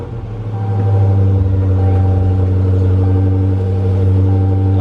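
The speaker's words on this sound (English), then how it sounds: "Let's go ahead and fire this thing up." A 2015-or-later Dodge Challenger or Charger starts up from inside the car, the engine catching after a brief crank and settling into a loud, steady low rumble of exhaust.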